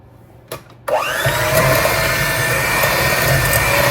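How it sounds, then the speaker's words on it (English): A hand mixer creams butter for a small batch of cookies, switching on after a brief clatter and then whirring in a steady, loud, continuous motor drone. "and a hand mixer, we're going to cream them together"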